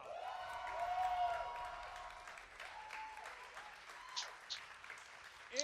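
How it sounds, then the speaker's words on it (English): A smattering of hand claps mixed with room noise, fairly faint, with a few sharper claps standing out near the end, at the start of a live Movie Trivia Schmoedown event. "I don't know why I'm clapping."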